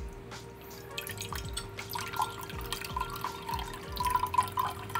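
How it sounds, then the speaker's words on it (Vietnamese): Water trickles and drips steadily as tap water is poured into a container, a soft, continuous close-up splashing with scattered drip accents, no voices. "Nước chảy róc rách."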